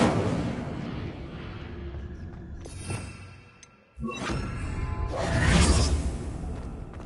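Incendio fire spell cast in Hogwarts Legacy, with sharp whooshing bursts and crackling flame flares, a brief quiet gap, then a louder roaring blast that trails off.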